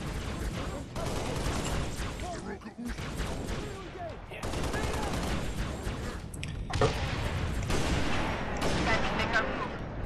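Rapid bursts of Halo: Reach gunfire crackle almost continuously, with brief gaps between volleys and a loud, dense layer of shots and mechanical clatter.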